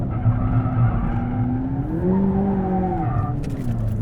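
A McLaren 570S sports car slides on a race track, its tires wailing in a long, loud squeal that bends in pitch over a steady engine drone.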